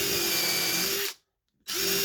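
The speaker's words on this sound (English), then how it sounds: "All of this is done with a countersink drill bit in the impact drill." An impact drill with a countersink bit whines loudly and steadily into scrap wood, cuts out for a brief moment of silence, then starts up again close by.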